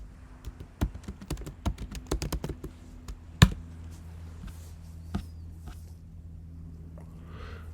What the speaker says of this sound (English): Let's type npm run start.